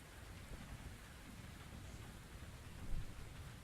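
Steady rain with a low thunder rumble in the Victorian-era mystery VR game The Invisible Hours, a dense even wash throughout with a brief louder swell near the end, no voices.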